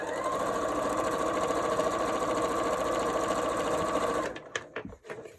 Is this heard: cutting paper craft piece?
no